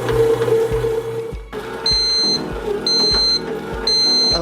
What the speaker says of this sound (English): the buzzer is sounding